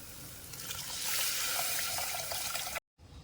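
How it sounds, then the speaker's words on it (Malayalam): Tamarind water is poured into a pan while cooking pepper rasam, a steady splashing gush that swells and continues before stopping suddenly, with a faint trickle afterward. "ഇനി പുളിവെള്ളം ഒഴിക്കാം."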